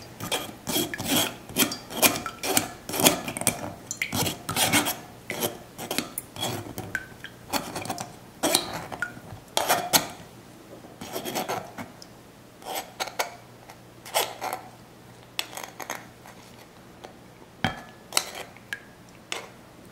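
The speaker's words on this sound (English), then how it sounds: "Just stir a spoon in here to try and get all the juice" A spoon scrapes and rasps repeatedly against a bowl while stirring tamarind pulp to draw out the juice, with quick irregular strokes close up, busy at first and then thinning to sparse scrapes.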